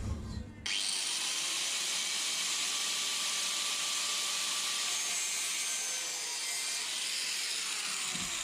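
A power tool cuts a corner off a motorcycle exhaust part for a V-Strom 650, a steady, loud, high grinding whine running without a break after a brief start, close by.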